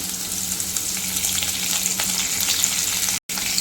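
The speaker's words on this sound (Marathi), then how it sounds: "लसूण जरा आपण तळसायला देऊया तर आपण कांदा घालत आहोत आता कढीपत्ता घालत आहे" Garlic, onion and curry leaves frying in a pan, a loud, steady, close sizzle with faint stirring scrapes throughout.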